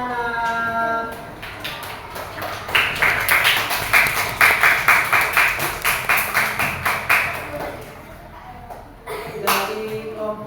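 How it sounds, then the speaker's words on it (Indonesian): Children clap together in an Indonesian classroom, a run of quick, regular rhythmic claps in the middle, with a teacher's voice before and after. "Terima kasih, tepuk tangan anak-anak."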